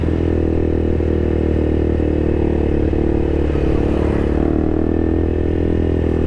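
A KTM RC200 motorcycle fitted with an SC Project exhaust runs close and loud, a steady raspy engine drone with bassy low rumble and light clatter, rising slightly in a brief rev midway.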